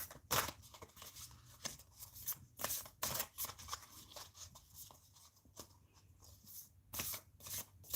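A deck of tarot cards is shuffled by hand in repeated bursts of crisp riffling and slapping, close and fairly loud, with short pauses between strokes.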